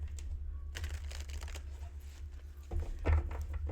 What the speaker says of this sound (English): Let's shuffle these up a little bit.